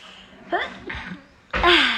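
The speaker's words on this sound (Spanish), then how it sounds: "Voy a estornudar, espérense." A single sharp sneeze bursts out loudly near the end, preceded by a couple of quick gasping breaths as it builds, close to the microphone.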